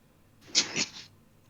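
A cat lets out a brief, faint two-part meow in a quiet room, with little else around it.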